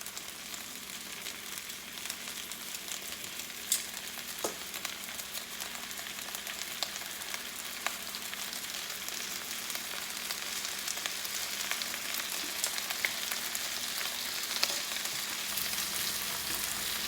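Beef steak with bell peppers and vegetables sizzles steadily in a hot pan for fajitas, a dense continuous crackle with occasional small pops and no voices.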